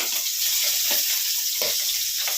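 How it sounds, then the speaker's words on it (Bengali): Fish head frying in hot oil gives a steady, close sizzle and hiss, with a few soft low bumps from the pan underneath and no talking. "মাছের মাথা ছিল, সেটাই ভাজছি"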